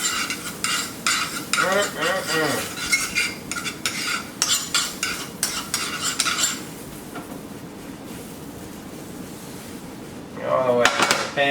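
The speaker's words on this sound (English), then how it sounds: "we're gonna add a gracious amount of butter to our pan" Butter sizzles with a bright hiss in a frying pan while a utensil scrapes and stirs, for buttermilk pancakes. The sizzle fades to a quieter simmer partway through.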